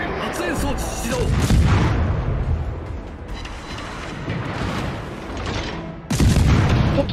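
Heavy naval gunfire in World of Warships rolls through a battle, with deep repeated blasts and rumbling bursts, loudest at the start and end, with talk mixed in.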